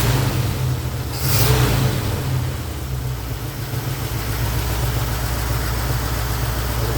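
A hot car engine idles steadily with a faint lifter tick, a close, even mid-pitched hum with a brief rise partway through, no talking.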